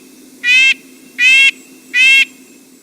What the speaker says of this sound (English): That's the one that kind of sounds more like a car alarm. Kind of nasal quality to it.